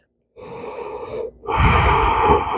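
Two audible breaths drawn in through the nose and mouth during a yoga exercise for back care, the second fuller and louder, close and clear with no talk.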